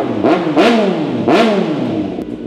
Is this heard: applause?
no